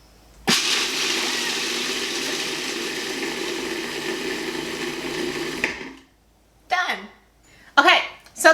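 A blender whirs steadily for about five seconds, blending pesto of pine nuts, garlic, salt, pepper and lemon juice, then stops abruptly, followed by a few short bursts of clatter.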